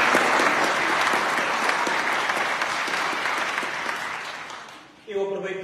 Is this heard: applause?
yes